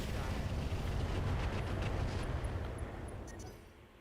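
Rockets fired from a mech in the Battletech / Roguetech game, a loud, dense roar of launches and blasts that holds steady for about three seconds before starting to fade.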